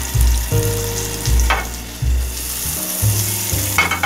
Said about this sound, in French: Donc là, une fois qu'on entend que ça grésille